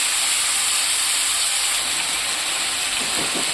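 Local chicken meat frying in hot oil, a loud, dense, continuous hiss of sizzling that holds steady throughout.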